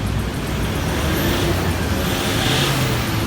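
Diesel 2012 Toyota Fortuner with a VNT turbo engine, not yet purged, revved hard, a loud, steady, rough engine roar held throughout, close by.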